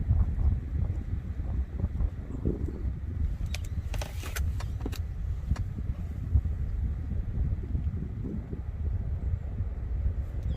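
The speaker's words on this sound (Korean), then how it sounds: "바람이 너무 세게 부네요" Strong spring wind gusting across a freshwater crucian carp fishing spot, a steady low buffeting roar battering the microphone throughout with brief bursts of rattling mid-clip.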